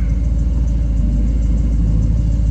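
A 1957 Corvette engine rumbles steadily as the car pulls out, a loud, close, continuous low throb with an even idle pulse and no voices.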